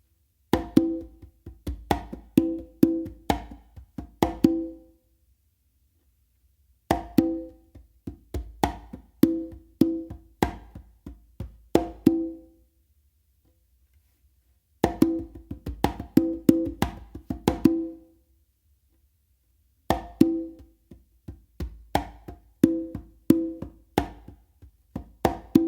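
Congas played slowly in a funk 3-in-1 pattern, crisp hand slaps and open tones in repeating phrases separated by short pauses, close and clear with no talking.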